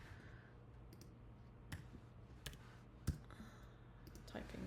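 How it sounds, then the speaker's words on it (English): Computer keyboard keys clicked in sparse, irregular taps over a low steady hum, faint and close. "Typing is very difficult apparently"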